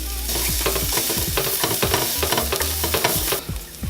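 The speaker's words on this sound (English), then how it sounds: "So I'm sauteing the onions with some oil." Onions and garlic sautéing in oil for a vegan chicken pot pie, with a close, steady sizzle under repeated clattering scrapes of stirring that ease off near the end.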